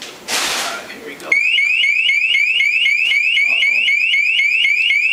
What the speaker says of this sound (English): I have a little water alarm here, a leak detector. So I just got a little bit of water dripped on that and it triggered it.